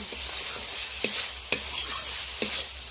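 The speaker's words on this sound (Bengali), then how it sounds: "এই পর্যায়ে আর 1-2 বার আমি হালকা করে নেড়ে নেব।" Fried spice paste for a mourola fish curry sizzles gently in oil while being stirred. A close, steady crackle is broken by a few sharp spoon taps, and no one speaks.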